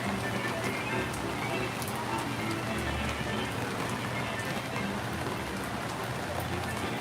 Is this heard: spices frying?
no